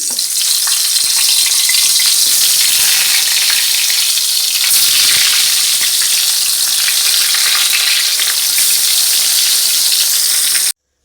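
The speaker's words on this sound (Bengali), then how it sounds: "বেগুনে লবণ হলুদ মাখিয়ে নিয়েছি, এখন বেগুনগুলো ভেজে নিই" Eggplant slices coated in salt and turmeric fry in a pan with a loud, continuous, close sizzle that holds steady for about ten seconds before stopping abruptly.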